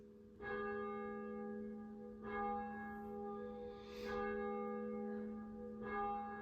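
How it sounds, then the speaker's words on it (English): Church bells ring out in steady, evenly spaced strikes, each tone sustaining and overlapping the next, moderately loud with no talking. "I'm gonna have to give it a minute with these bells."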